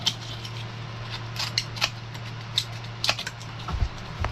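Scissors snip paper pattern pieces for an awkwardly shaped shelf, a series of crisp, irregular cuts close by with a faint steady hum underneath and no talk.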